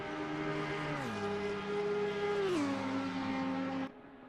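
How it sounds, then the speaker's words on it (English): Audi race car engine on the Mount Panorama circuit in a sim racing game, a loud, sustained high-pitched whine that drops in pitch with each upshift before cutting off abruptly. "Sounds awesome, that Audi."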